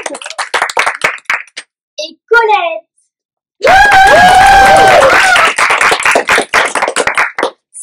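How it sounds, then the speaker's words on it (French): Applause from a school audience at a collège reading-prize event: a sharp burst of clapping opens the clip, then someone speaks briefly, and loud hand clapping mixed with voices fills the second half. "Merci de faire un tonnerre d'applaudissements pour Victorien"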